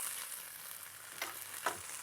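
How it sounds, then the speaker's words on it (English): Soft, steady sizzling of tomato paste frying in a pan, with a couple of faint stirring scrapes, quiet and close. "I'm putting in some tomato paste and frying that off a little."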